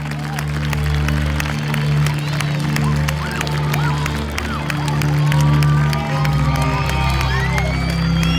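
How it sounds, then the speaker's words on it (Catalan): An audience gives sustained applause and cheering, with children shouting and whooping, for fifth-grade pupils who played the dragon in a school Sant Jordi legend performance. "un fort aplaudiment pels companys de cinquè que han fet de drac"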